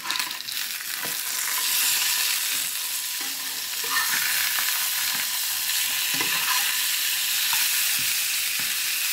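Seared salmon fillets fry in a pan with a loud, constant hiss of hot oil after being flipped. Occasional soft knocks and scrapes from the spatula sound under the sizzle.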